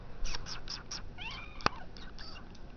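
A cat gives a series of short, rising meows close by, followed by a sharp click and a few more drawn-out, plaintive cries.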